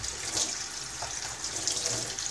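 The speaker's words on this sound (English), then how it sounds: "So I'm gonna have to run the hot tap." A hot water tap runs steadily into a sink, a continuous hissing rush of water with slight surges, close by and alone with no talking.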